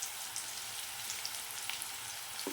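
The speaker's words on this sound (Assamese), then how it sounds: "আলুটো এতিয়া অকণমান ভাজি ল'ম।" Boiled potato fries in hot oil in a pan, making a quiet, steady crackling sizzle with small pops and nobody speaking.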